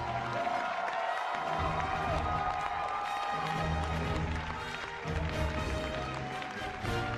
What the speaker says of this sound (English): let's give one round of applause to our champion, Surrender